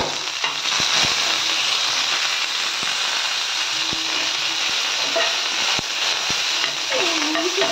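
Green chillies, curry leaves and coriander sizzle in hot oil in a pan, a steady, close hiss of frying with a few light clicks of stirring and no talk.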